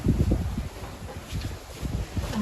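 Gusty wind storm roars against the microphone in low rumbling bursts, rising and falling with a faint rustle over the top.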